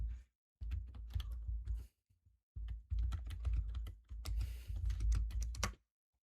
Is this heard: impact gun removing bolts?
no